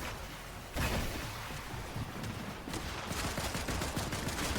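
Sustained gunfire in a shooting video game, dense rapid bursts like automatic weapons fire running continuously and loudly throughout.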